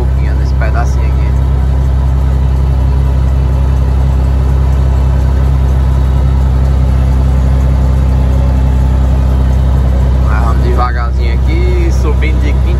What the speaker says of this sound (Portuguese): Subindo de quinta marcha, simples, sem pressa